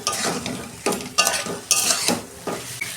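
Snake gourd (chichinga) curry is stir-fried in a pan, with repeated close spatula scrapes about every half second over a light sizzle.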